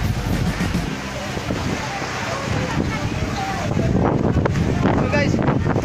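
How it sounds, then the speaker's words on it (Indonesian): A strong west wind gusts steadily across an outdoor wedding reception under a canopy, a loud continuous roar with flapping, while people talk in the background. "angin barat bertiup angin barat"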